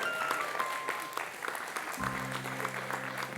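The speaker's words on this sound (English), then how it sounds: "Sensing a muted applause." Muted audience applause at a live illusionist's magic show, thin, scattered clapping at low level, with a low sustained musical tone entering partway through.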